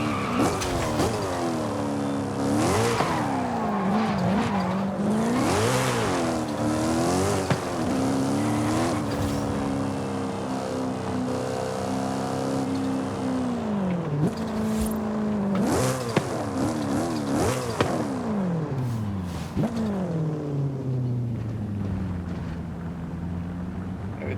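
BMW M3 GTR race car in Forza Horizon 5, driven with a Logitech G29 wheel: a loud, continuous engine howl rising and falling through gear changes, with tire squeal and skidding, no talk.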